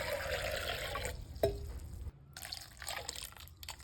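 Cool boiled water poured from a cup over salted pickled mangoes, a soft trickling and splashing of liquid with a few brief drips, close and fairly quiet, with no voices.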